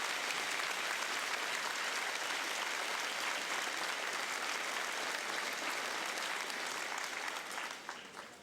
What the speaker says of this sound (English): Let's give these staff members a round of applause,